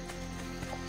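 Horse hooves clip-clopping in Assassin's Creed Brotherhood, a steady run of quick hoofbeats over a constant game soundscape, with no talk.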